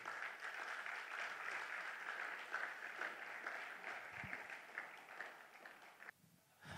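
Audience members at a slam poetry contest clap for a performer, a fairly faint, sustained round of applause that carries on evenly before breaking off abruptly near the end.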